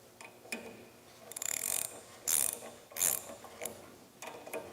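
A ratchet tightens the pulley bolts on an Everett Industries chop saw in short bursts of rapid clicking, with uneven pauses between strokes. The sound is close and fairly quiet, with no voices.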